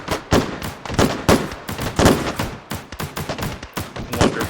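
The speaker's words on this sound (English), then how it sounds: "thematic gunfire while you snipe" Rapid bursts of gunfire in the video game H3VR crackle one after another, loud and close, with shots overlapping in an uneven, continuous barrage.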